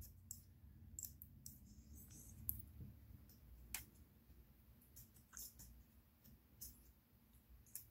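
Faint, scattered little clicks from a combination lock's mechanism as the dial is turned, soft and close over a low steady hum.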